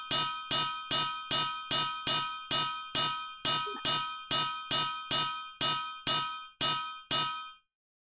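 A wrench strikes metal in the GregTech 6 video game, about fifteen sharp, ringing clangs in an even rhythm roughly twice a second, loud and alone, ending abruptly.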